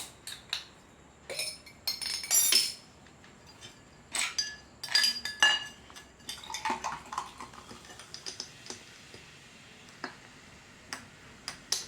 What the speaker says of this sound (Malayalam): അപ്പം നമുക്ക് ഓപ്പണർ എടുത്ത് പൊട്ടിച്ചാൽ